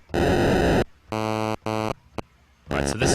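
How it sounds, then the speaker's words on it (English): Sega Genesis sound chip noise channel producing harsh buzzy tones in several short bursts of varying pitch and texture, loud and close, separated by brief gaps. "this is actually the noise channel on the Genesis. All kinds of crazy noises"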